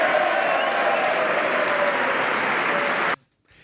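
Republican audience applauding at a Trump speech, a steady, dense wash of clapping that holds loud and even for about three seconds and then cuts off abruptly into silence.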